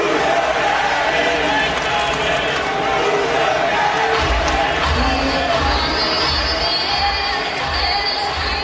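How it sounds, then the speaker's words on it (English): Yankee Stadium crowd at a 2009 World Series game reacting to Pedro Martinez stepping onto the field, a dense, sustained roar of many voices with scattered shouts, steady and loud throughout. "Here was the reaction by the Yankee Stadium crowd."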